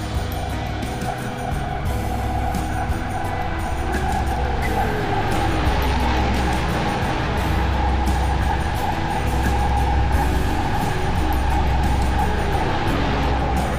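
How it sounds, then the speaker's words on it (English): Bullet train ride in the video game Dreamfall: The Longest Journey, a steady low rumble and rolling hum of the moving train with faint rhythmic clicks, continuous and fairly loud, without speech. "You're the only one in this train? This is a bullet train."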